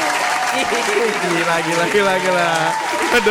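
Continuous clapping from a small group in a podcast studio, running on steadily while people talk over it close to the microphone.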